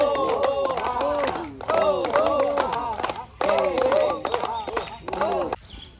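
A dense crowd at Mahabaleshwar fills the air with loud overlapping voices and shouts, chattering in continuous bursts with brief dips between them.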